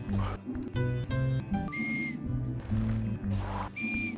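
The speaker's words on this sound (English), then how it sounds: "They actually make a little whistle sound." Short, bright whistle tones sound twice amid a steady run of electronic, tonal game sounds and chimes, fairly close and clear.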